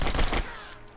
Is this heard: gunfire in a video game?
yes